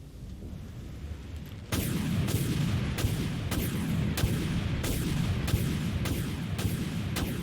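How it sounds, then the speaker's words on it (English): Spaceship weapons fire at an enemy command ship in the game Dreadnought: a rapid series of sharp, evenly spaced booming shots, roughly one every half second, after a brief quieter lead-in. "Locked and ready to fire, Captain."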